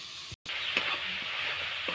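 Onion and garlic frying in a pan, a soft, steady sizzle with faint stirring clinks, heard close and fairly quiet.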